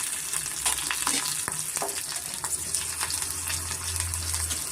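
Garlic and ginger frying in a pan for green mutton sambar, a close steady crackling sizzle with stirring scrapes throughout and a low hum underneath.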